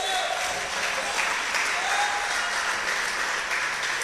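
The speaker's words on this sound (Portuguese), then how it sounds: "Fique de pé e dê um aplauso a Jesus." A standing church congregation applauds in a loud, dense, sustained burst of clapping, with faint voices mixed into the steady roar.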